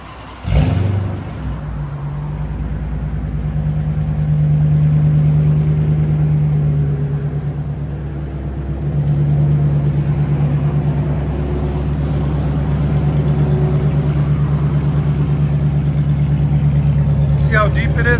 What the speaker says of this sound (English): This is what it sounds like before with 2 1/4.